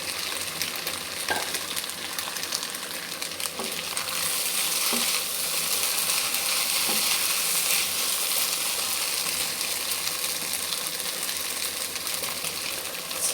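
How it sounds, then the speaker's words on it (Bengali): Pre-boiled pasta fries in a pan as a child's tiffin is made, a continuous sizzling hiss that swells and stays loud, with occasional light clinks of a utensil and no talk. "এই যে পাস্তা রান্না করছি।"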